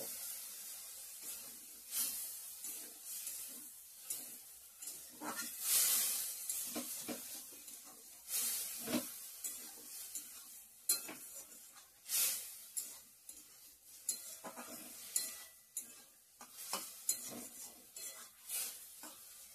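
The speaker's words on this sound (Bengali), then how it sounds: "ভালো করে মিশিয়ে নেব, একটু জল দিয়ে।" Pasta stirred in a hot pan with a little water added: a soft steady sizzle under irregular scraping strokes of a spoon against the pan, close but fairly quiet, with no talking.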